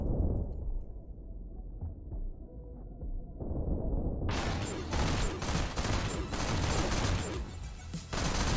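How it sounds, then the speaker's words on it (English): Gunfire in the video game GTTOD, where a quiet, muffled stretch gives way to a loud, dense burst of rapid shots and blasts that continues to the end. "I think I'm gonna time stop and shoot them"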